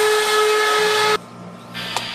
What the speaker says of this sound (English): I hear a squeak. Somebody left the teapot on.